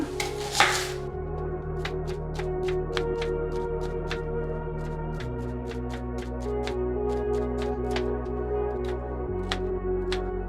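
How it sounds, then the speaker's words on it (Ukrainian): A knife slices onion into half-rings on a board, crisp regular cuts ticking along steadily over soft background music, close and clear. "Цибулю я нарізаю на напівкільцями."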